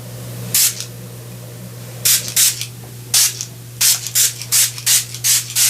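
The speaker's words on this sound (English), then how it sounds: "this is just like setting spray" Setting spray misted from a pump bottle in a close, quiet setting: about ten short, crisp hissing bursts, spaced unevenly at first, then falling into a quick steady rhythm, over a low electrical hum.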